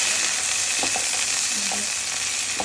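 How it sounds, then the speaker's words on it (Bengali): Potatoes frying in a pan with a little butter in a home kitchen, a steady close sizzle with a few soft stirring knocks and clinks along the way, no talk. "আলুটা ভেজে নিচ্ছে।"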